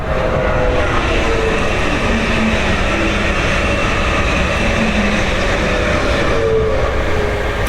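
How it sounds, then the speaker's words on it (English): Loud, steady rumble of a train rolling past close by, with continuous wheel and track noise throughout. "Here comes the train again."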